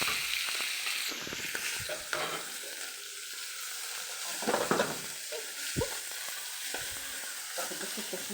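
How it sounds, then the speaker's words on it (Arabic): Chicken livers sauté in a hot pan with a steady bright sizzle, broken by occasional scrapes and stirring clatters from a utensil, close and unaccompanied by speech. "ونحط الكبده عشان ايه تتشوح التشويحه بتاعتها الجميله برضه"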